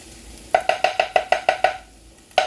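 Onions fry and get stirred in a pan, with a run of about eight rapid, evenly spaced scraping strokes, then a short pause and one more stroke, close and clear over a soft background hiss.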